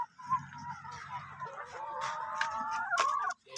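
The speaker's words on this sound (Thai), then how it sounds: "นี่ไก่ครับ ไก่พันไข่พี่น้อง" Egg-laying hens cluck and call continuously close by, a busy overlapping chorus of drawn-out squawks and murmurs from a small backyard flock.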